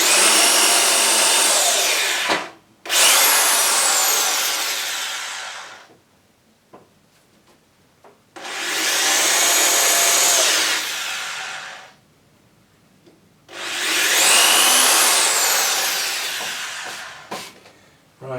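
A power drill boring holes into wood, three long loud whining bursts separated by short pauses, with faint handling noises in the quiet gaps.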